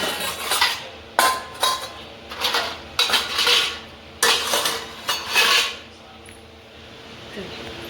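Metal utensils are stacked and arranged in a village home, giving sharp, irregular clanks and rattles of steel pots and dishes close by, with quiet pauses between bursts.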